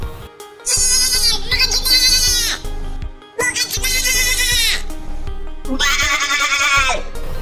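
A voice imitates goat bleats in a stand-up comedy routine of animal impressions: three loud, close, wavering bleating bursts, with brief pauses between them.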